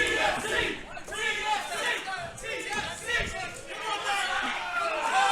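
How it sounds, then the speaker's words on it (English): A large crowd at an XFC mixed martial arts event chants rhythmically in support of a fighter, voices swelling in repeated loud bursts with chatter mixed in. "Got the chant going."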